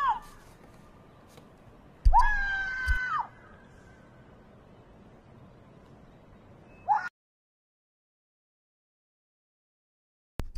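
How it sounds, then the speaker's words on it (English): A person screams once, sharply and fairly close, over quiet background noise during volcano eruption footage, followed by a shorter cry and then silence. "Someone screaming."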